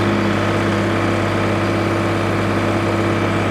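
A Sonalika DI-47 RX 50 HP tractor's diesel engine holds a steady 1500 rpm, a loud, even, close-up drone with a constant low hum and no variation.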